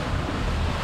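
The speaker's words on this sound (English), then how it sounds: "the waves are coming at us sideways, and they're large" Large ocean waves slam sideways into a sailboat moving at about seven knots on a rough passage, a steady roar of surf and water rush mixed with wind buffeting the microphone, with no talk.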